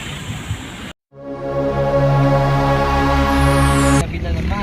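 Road traffic noise from inside a vehicle stuck in slow traffic, a steady low engine drone with tonal hum running throughout, briefly cut near the start, with faint background sounds at either end.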